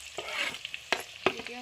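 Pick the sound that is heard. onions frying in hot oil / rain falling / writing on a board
onions frying in hot oil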